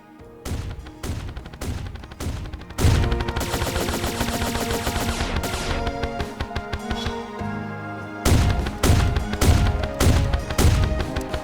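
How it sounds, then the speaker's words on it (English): A plasma rifle in Terraria Calamity fires rapid bursts of bolts, loud clustered volleys with short gaps, then a long sustained stream of shots and more volleys near the end, with no talk. "Fires a plasma blast that explodes. Right click to rapidly fire plasma bolts."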